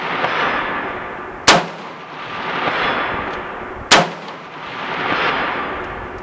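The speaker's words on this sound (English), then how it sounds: "we were using this on the Franklin Armory binary trigger and shooting almost full auto" A rifle fitted with a Franklin Armory binary trigger and a Sig Romeo 4M red dot, fired outdoors: two loud, sharp shots about two and a half seconds apart, each followed by a long rolling echo.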